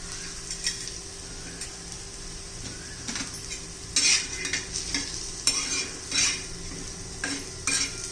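Crushed fried bibdya, a bajra and moth-dal wafer, stirred into a spiced mixture in a pan: a soft sizzle under repeated scraping and clinking of a metal spoon against the pan, in uneven bursts.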